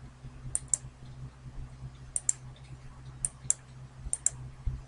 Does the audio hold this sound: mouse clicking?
yes